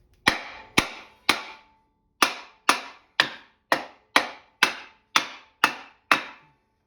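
Twelve sharp metallic hammer blows, evenly spaced at about half-second intervals with one brief pause, drive a Honda Civic trailing arm bushing into its housing, close and loud in an otherwise quiet space.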